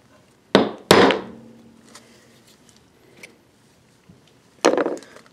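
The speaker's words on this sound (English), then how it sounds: "I think I'm going to bonk it out of there through the misuse of this ice pick." Ice pick driven with sharp blows to knock a rope seal pin out of a small block Ford rear main cap, giving a few hard close knocks, two close together at the start and another after a pause, with faint ticks between.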